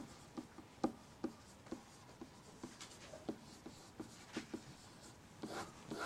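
Chalk or marker writing on a board during a math lesson on sine and cosine, heard as soft, faint scratching strokes in short irregular bursts with no talk.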